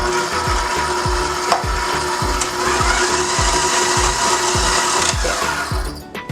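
Fruit cake batter with vanilla being mixed in a bowl: a loud, steady, rhythmic churning with regular strokes roughly every half second that continue evenly before trailing off at the end.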